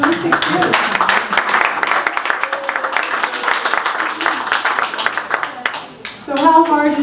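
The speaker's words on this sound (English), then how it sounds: "That deserves a round of applause." An audience at an art society event gives a round of applause, steady clapping from many hands running through most of the moment, with a voice speaking briefly as it ends.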